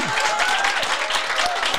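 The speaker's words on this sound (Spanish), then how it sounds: "Le damos un aplauso con todo cariño a Sara Benito" An audience gives warm applause for psychologist Sara Benito, a brief, steady, close burst of many hands clapping together.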